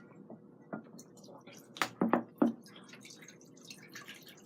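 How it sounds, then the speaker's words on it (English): Cooking water drained off volcano noodles gives a few sparse drips and splashes, then a cluster of sharper splatters near the middle, faint and close with quiet gaps. "We need to drain the water off of this."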